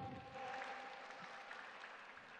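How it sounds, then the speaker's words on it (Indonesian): Studio audience clapping at a TV broadcast celebrating a station anniversary with a young preachers' competition final; faint, even applause with a thin tonal hum in the background, no voices. "Tepuk tangan semuanya."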